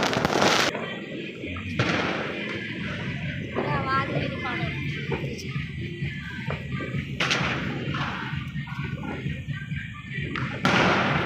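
Several sharp firecracker bangs burst out at irregular intervals, loud and close, with people chattering and calling out in Hindi between the blasts.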